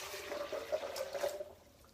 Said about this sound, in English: And to that, I'm going to add 3 cups of water.